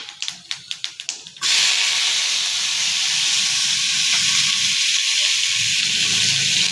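Five-spice seeds crackle in hot oil with a quick run of sharp pops, then onions drop into the pan and set off a loud, steady, close sizzle that holds to the end.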